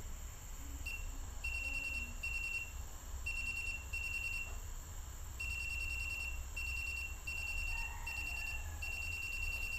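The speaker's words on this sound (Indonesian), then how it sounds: "Kemudian buzzernya berbunyi seperti beep" An Arduino-based anti-sleep glasses buzzer sounds in repeated short bursts of high pitched beeps, grouped in pairs and runs with brief pauses, over a constant low background hum.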